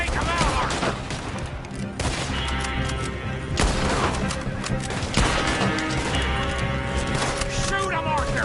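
Rapid gunfire in a Red Dead Redemption 2 shootout, loud and dense bursts of shots and impacts running throughout, mixed with game music and voices talking over the fighting.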